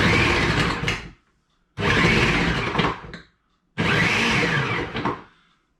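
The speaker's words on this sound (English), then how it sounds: "and then press the chop function." A Ninja food processor on its chop function dices sweet potato in three loud whirring bursts of about a second each, with short silent pauses between them and no voices.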